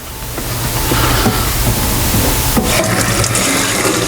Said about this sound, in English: we're going to just add a little hot water, like 2 ounces of hot water